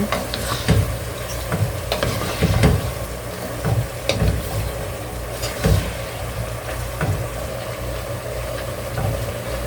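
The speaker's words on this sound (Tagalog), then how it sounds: "Haluin lang natin siya." String beans (sitaw) stirred in a sizzling pan for adobong sitaw, a constant frying hiss broken by repeated loud scraping and clanking strokes at an uneven rhythm, close up.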